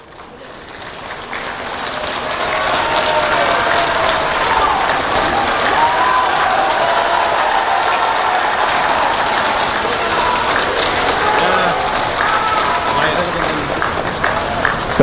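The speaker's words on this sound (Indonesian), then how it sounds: "Kehadiran Hasto disambut riuh tepuk tangan dari anggota Kongres PDI Perjuangan" Party congress members at a PDI Perjuangan congress in Bali break into loud, sustained applause that swells within the first two seconds and holds as a dense, steady roar of clapping with a crowd murmur beneath.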